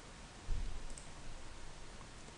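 A computer mouse clicks once on a software button, a soft, close tap over a steady background hiss.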